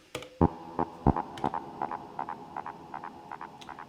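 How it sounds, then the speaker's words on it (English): A Digitakt drum machine pattern runs through a delay effect, with sharp percussive hits followed by a rhythmic trail of repeating echoes that fade steadily, heard alone. "the delay fills the spectrum, and that sounds like this"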